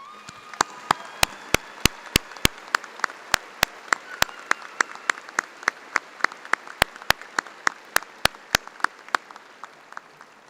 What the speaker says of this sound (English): Please join me in giving our platform party and faculty a great round of applause.